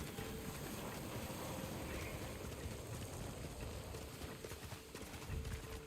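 A horse gallops in the Ghost of Yōtei video game, its hooves drumming in a steady, continuous rhythm at moderate loudness over a faint ambient background.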